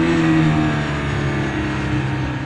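Mazda MX5 Bullet Roadster engine droning loud and close, a steady sustained note with a slight swell at the start and no voices over it.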